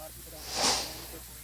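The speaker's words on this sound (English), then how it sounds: "the frying was very loud and you couldn't really hear the voice" Bologna slices and cheese sizzle in a frying pan on the stove, a steady hissing fry that swells briefly louder before settling back to a soft, even crackle.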